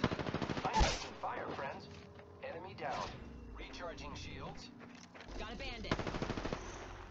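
Rapid automatic gunfire from the Havoc rifle in a shooter game, a fast rattling burst at the start followed by scattered shots, with someone talking over much of it.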